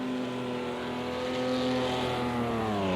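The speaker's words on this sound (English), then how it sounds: "it sounds like no lift from Matty to this Porsche curve, so it's flat out" Race car engine held flat out through the Porsche Curves at Le Mans in a sim racing session, a loud continuous high-revving drone with steady harmonics that rise slightly in pitch, running alone throughout.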